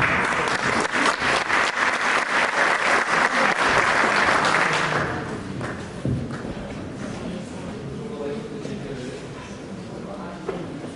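Audience applause at a classical Turkish music concert of Muallim İsmail Hakkı Bey compositions: dense, loud clapping for about five seconds, then fading into a quieter room murmur with faint voices.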